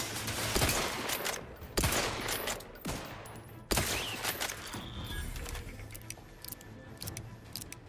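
Gunfire in the video game The Outer Worlds 2: bursts of loud, sharp shots and rapid volleys crack in irregular clusters, fading to scattered quieter pops.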